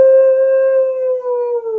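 A man imitates a dog howling at the moon with one long, sustained, wavering howl, loud and close, heard alone.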